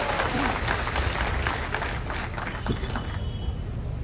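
A large crowd at a political rally for Sharad Pawar claps and cheers without pause, a dense, loud, steady wash of applause and shouts from start to finish.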